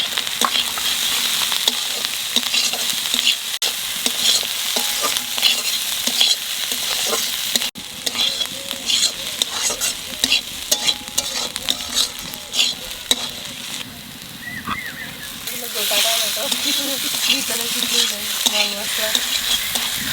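Green chili, dried chili, ginger and garlic fry in a pan with a steady, loud sizzle, stirred repeatedly with scraping and clinks throughout, close up and without speech.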